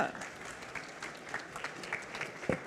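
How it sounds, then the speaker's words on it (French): An audience at a professional conference on kitchen operations claps in a moderate, rippling applause with audible individual hand claps and a sharper clap near the end, at medium distance. "Merci de vos applaudissements, ça fait chaud au cœur."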